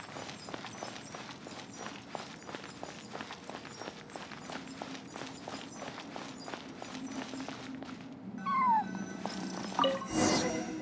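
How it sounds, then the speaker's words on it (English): A cat cries with a short meow near the end, after a long stretch of steady, rhythmic footsteps. "I followed the cat's cries to find my way out"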